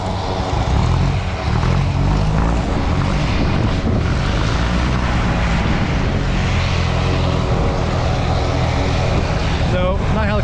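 A steady, loud jet aircraft engine roar fills the scene, heard from a small plane flying in formation, droning continuously without fading, with talk faintly mixed in.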